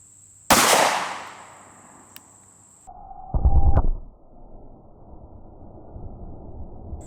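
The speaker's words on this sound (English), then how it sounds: "let's shoot the 45 HST out of the Smith Wesson Shield" A Smith & Wesson Shield fires a .45 HST hollow point into tough clothing at close range. One sharp, loud report is followed a few seconds later by a second heavy burst, with faint electronic beeps in between.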